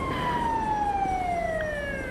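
Police sirens wail in the GTA V Online video game, a steady tone slowly sliding down in pitch over a constant rumbling background, moderately loud and with no talk.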